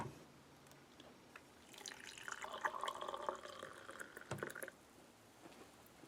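Water pours and trickles in a short, faint burst while an Italian combat ration, the Razione Viveri Speciale da Combattimento Module F, is prepared.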